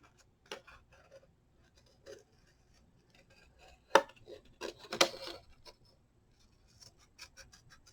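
Scissors snip through paper to cut out craft wings, giving sparse, faint clicks and crisp cuts scattered irregularly, with a small cluster of louder snips near the middle.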